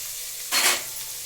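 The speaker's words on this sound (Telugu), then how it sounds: "ఉల్లిపాయ ముక్కలు బాగా ఫ్రై చేసుకోవాలి." Onion pieces sizzle in a hot pan for tomato rice, a sudden hiss of frying that swells for a moment when they are stirred, then settles back into a quieter steady crackle.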